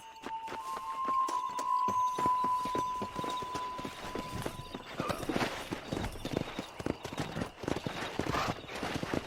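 Horse hooves clop on the ground in the video game Red Dead Redemption, a faint irregular walking rhythm that picks up pace, with a held tone sounding early on.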